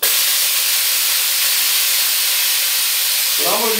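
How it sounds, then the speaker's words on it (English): Venturi vacuum vent on a bandsaw resaw jig in a woodshop, giving a loud, continuous airy hiss that holds steady throughout, with a brief low voice-like sound near the end. "I run a Venturi vent. It's going to make a little noise, then I'm going to cut it off."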